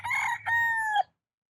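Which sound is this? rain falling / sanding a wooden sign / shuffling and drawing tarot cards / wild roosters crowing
wild roosters crowing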